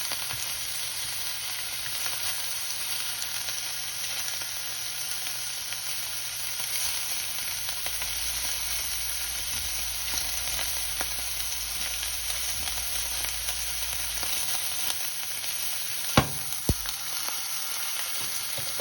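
Bánh xèo, a Vietnamese crispy pancake, fries in a lightly oiled pan with a steady, dense hiss that holds evenly throughout, broken near the end by a couple of sharp clinks.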